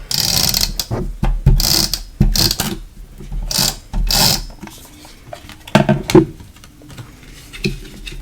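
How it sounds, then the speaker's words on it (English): Double-sided adhesive tape is pulled and pressed onto card paper for a handmade birthday card, giving loud, close crackling peels and rustles in irregular bursts with brief quiet gaps. "I'm going to use some double-sided adhesive"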